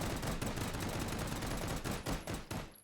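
Dual-wielded pistols fire in rapid, overlapping bursts in the VR shooter H3VR, loud, close and continuous, with a few brief gaps near the end.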